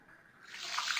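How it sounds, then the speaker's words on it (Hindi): Water in a pot swells into a bubbling, hissing boil as it heats, rising from quiet to a steady close rush of small bubbles. "जी ये पानी उबल चुका है"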